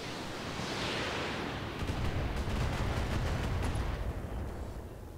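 Weapons fire on a target in the RogueTech mod of the BattleTech mech game, a sustained rumbling barrage of explosive impacts with a rolling low-end roar that swells and holds for several seconds.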